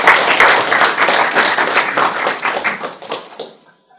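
A crowd clapping hands together, dense close applause that runs steadily for several seconds and then stops abruptly into silence.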